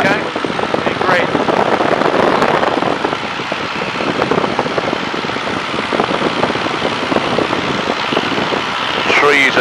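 Tiger Moth biplane engine droning steadily in flight near Duxford, a loud continuous roar with wind buffeting that fills the whole stretch, with faint voices over it.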